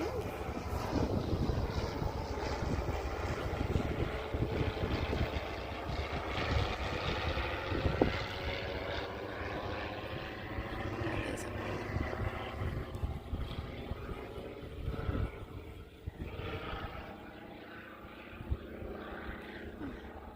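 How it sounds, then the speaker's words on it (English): A propeller airplane flies overhead during an outdoor horseback ride, a steady, moderately loud drone that holds throughout and eases off near the end. "Plane."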